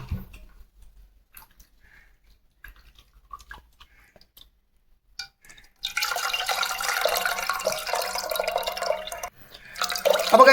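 Tamarind, about 50 grams, squeezed by hand in water and poured into a pressure cooker for Kerala-style rasam: a few soft drips at first, then a steady splashing pour for several seconds, a brief pause, and another short pour.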